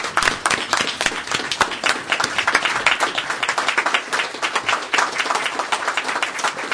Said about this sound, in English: let's having a standing ovation and a round of applause for these individuals